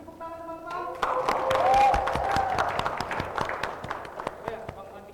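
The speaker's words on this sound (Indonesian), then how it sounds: "Beri tepuk tangan teman-teman." Audience applause at an Indonesian culture talk show event, a few seconds of scattered, uneven clapping from a modest crowd, with voices heard over it at the start.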